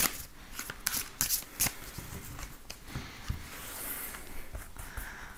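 Tarot cards being shuffled for a reading, a close, dry series of crisp riffling bursts and soft slaps in an irregular rhythm, fairly quiet with no talk.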